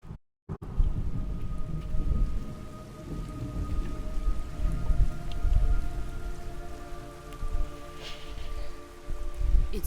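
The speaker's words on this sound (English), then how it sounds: "it's raining blood." Rain pours steadily in the Metal Gear Solid Delta video game, with low rolling thunder rumbling beneath and faint tonal hums over it. It begins after a short silent gap and has no talk.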